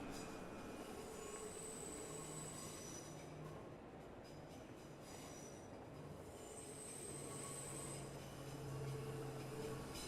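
A distant train in Train Sim World 6 rumbles steadily for the whole stretch, with faint high wheel squeal and soft rail clatter, no talk over it.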